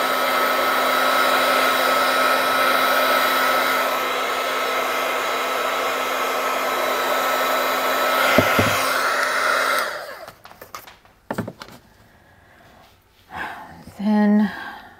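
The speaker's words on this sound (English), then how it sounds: "When I hit this with the dryer again," Hair dryer blowing steadily and loudly up close while drying glass paint, then switching off, followed by quieter handling noises and brief speech.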